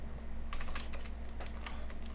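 Quiet, rapid clicking of keys on a computer keyboard while C++ code is typed, in irregular bursts over a steady low electrical hum.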